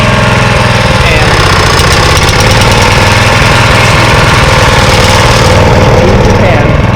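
A small Japanese-made lawn mower engine idles steadily and loudly right after being restarted, with a slight hunting chug, close by and continuous.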